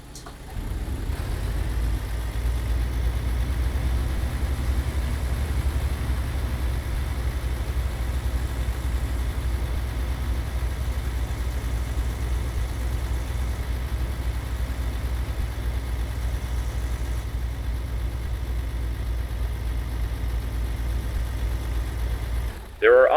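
A tractor-trailer truck engine idling at a steady low rumble while reversing toward an alley in American Truck Simulator, continuous and even throughout, with no other sounds standing out.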